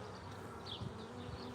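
Honeybees hum steadily at an open beehive being inspected for eggs and larvae, a close, even buzz with faint handling sounds.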